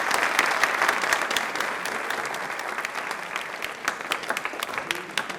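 A studio audience at a televised quiz show bursts into applause, an even stretch of many hands clapping that thins slightly but keeps going throughout.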